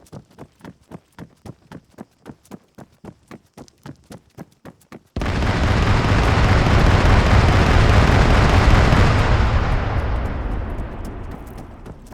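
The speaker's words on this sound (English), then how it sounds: "Perfect detonation." A video game detonation erupts as a sudden loud blast that rumbles and slowly fades, preceded by a steady run of rhythmic footstep-like thuds.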